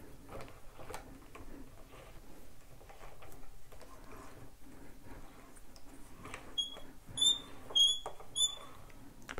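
A Yeticaster shock mount being fitted onto a microphone boom arm gives a few short, high, thin squeaks near the end, after a stretch of soft handling and rustling close by.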